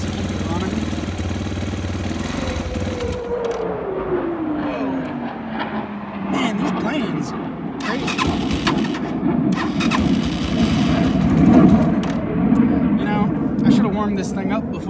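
A small Bashan CR250 dirt bike engine idles roughly and is blipped with the throttle to keep it running, revving up and down unevenly, close by, with a person talking over it.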